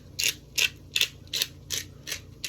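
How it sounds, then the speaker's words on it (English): A pepper grinder cranking out the coarsest setting of pepper gives about seven evenly spaced, close, bright grinding rasps in a steady rhythm, with no one speaking. "Obviously, this is a pepper grinder."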